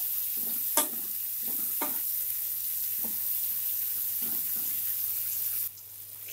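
Cumin and fennel seeds fry in a pan, a soft steady sizzle under repeated light scraping taps of a spoon, close by and without speech, the hiss dropping near the end.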